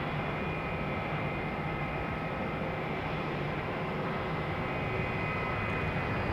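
A Southwest Airlines plane arriving at Raleigh-Durham airport gives a steady, even jet roar that holds at a constant level throughout, with no voices.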